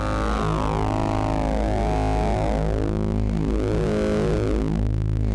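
A thick, buzzing wavefolded sine wave tone from a TipTop Audio Fold Processor, with rich harmonics that sweep and bend, unfiltered, sounding harsh and distorted, loud and continuous without any voices.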